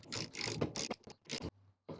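Ratcheting torque wrench tightening the rear cross rail bracket bolts on a Hummer EV, a run of close, loud clicking and scraping bursts with short pauses between them.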